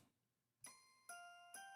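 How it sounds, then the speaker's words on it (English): Christmas bells strike three times in even succession, each ringing bright and sustained as it slowly fades, clear and alone after a moment of silence. "Bring up the bells."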